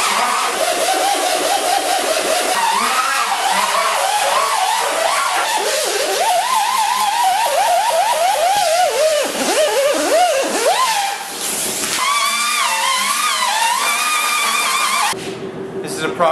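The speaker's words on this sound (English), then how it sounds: "I'm going to switch over to a little angle die grinder with a roll lock disc on it using 36 grit" A small angle die grinder with a 36 grit roll lock disc works over the rusty fender of a '47 Ford truck, a loud sustained whine that rises and falls in pitch as pressure changes, cutting out near the end.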